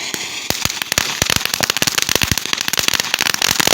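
Fireworks and firecrackers burst in a dense, loud string of sharp pops and bangs, each explosion following close on the last with no pause.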